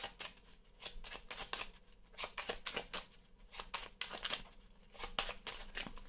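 Oracle Belline divination cards being shuffled by hand, a close series of quick crisp riffling and flicking bursts in an irregular rhythm, fairly near and steady in level, with no voices.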